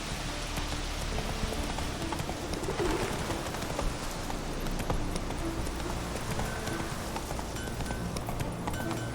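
Hooves of the horse Roach clip-clop at a trot in The Witcher 3, a steady rhythmic patter over a dense outdoor bed of rain and chirping birds, continuous throughout.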